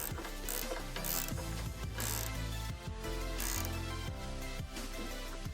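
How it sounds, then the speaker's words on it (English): A ratchet wrench clicks rapidly as it tightens a part on a snowblower, a close, steady run of sharp mechanical ticks with brief pauses between strokes. "Grab your wrench and tighten it up."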